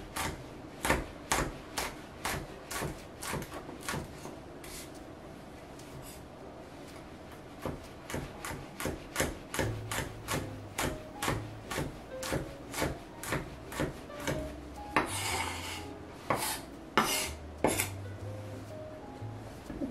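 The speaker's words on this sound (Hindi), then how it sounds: "हरे धनिया के बाद मैं कर लूंगी हरी मिर्चों को चॉप।" Green chillies chopped with a knife while making chana aloo chaat: a long run of steady, rapid knocks that speeds up and grows slightly louder toward the end, heard close with no speech.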